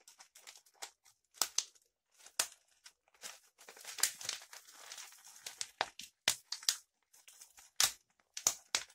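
Clear adhesive or black packing tape pulled off the roll and torn in a series of sharp, crackly rips and crinkles, close and loud, while a simple water filter is put together; no talking.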